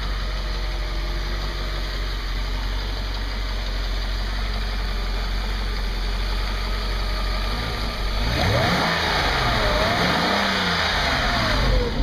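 A Mercedes R129 500SL M119 V8 idles with a deep, even rumble after new spark plugs, then grows louder and rougher for a few seconds as revs rise slightly.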